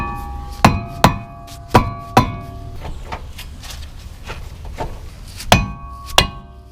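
Sharp metallic hammer blows strike an old front brake rotor on a 2011 Ford Fusion, landing in irregular pairs and singles, ringing close and clear with no talking.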